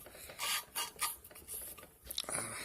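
Engine valve being lapped into its seat on a G23 VTEC cylinder head by spinning it back and forth, giving quiet gritty rasping strokes in an uneven rhythm, close up.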